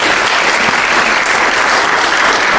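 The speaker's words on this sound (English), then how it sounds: "let's have a hand again for the talent" Loud, dense crowd applause fills the room after a talk on building a music career, a sustained wash of many hands clapping at once with no voices over it.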